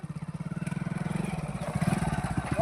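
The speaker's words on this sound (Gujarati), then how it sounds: "હું બાઇક લઈને આવ્યો બરાબર." A motorcycle engine idles nearby with a steady, rapid putter that gradually rises, accompanied by some clatter and faint voices in the background.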